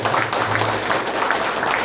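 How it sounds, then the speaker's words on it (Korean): Dense, loud audience applause fills the room at a political guest lecture, a steady wash of many hands clapping together without a break. "뜨거운 박수 부탁드리겠습니다."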